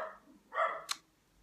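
A dog barks once or twice indoors, fairly faint and brief, with a short yip-like sound after it in a quiet room.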